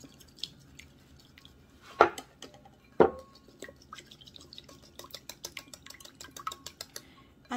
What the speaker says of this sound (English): take a ladleful of the broth and add it to this, and then start whisking it vigorously